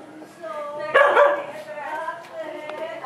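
A dog barks and yips repeatedly at close range, with a louder burst of barking near the middle, while people talk over it.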